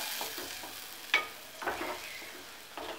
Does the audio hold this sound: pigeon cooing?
no